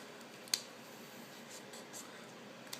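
Someone writes out math goals for a lesson on quadratic functions, a faint, steady scratching that runs throughout, with two sharp taps at the start and the end.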